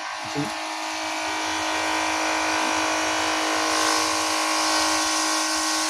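A motorized water spray machine for garden plants runs during a test, a steady close electric whine and hum with a brief clunk near the start, holding constant throughout with no talk.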